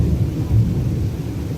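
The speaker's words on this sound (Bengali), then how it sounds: "বৃষ্টি নামছে" Heavy rain roars steadily with deep rumbling thunder beneath it, a dense low wash filling the air during a hot day's downpour.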